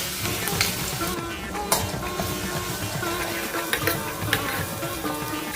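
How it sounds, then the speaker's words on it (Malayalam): Crushed ginger and garlic sauté in hot coconut oil, a dense, steady sizzle with occasional louder crackles and light stirring scrapes throughout. "വെളിച്ചെണ്ണ ചൂടായാൽ ആദ്യം ഇട്ട് കൊടുക്കുന്നത് ഇഞ്ചി വെളുത്തുള്ളി ചതച്ച് വെച്ചത് ഇനി ഇതൊരു മുപ്പത് സെക്കൻഡ് നേരം വഴറ്റിയെടുക്കുക"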